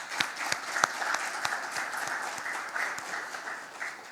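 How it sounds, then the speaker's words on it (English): Applause from an audience at the inaugural session of a law conference in Mumbai, a moderate, steady patter of clapping with a few sharper individual claps standing out near the start. "Let us give a clap to Mr."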